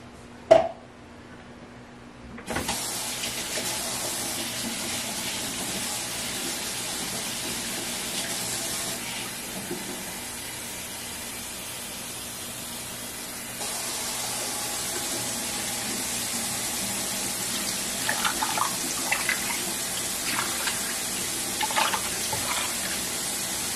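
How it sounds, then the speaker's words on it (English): Water runs from a kitchen tap into a crockpot of seasoned pork, a steady rushing stream starting after a brief clank and continuing unbroken, with small splashy shifts in tone as the pot fills. "add some water"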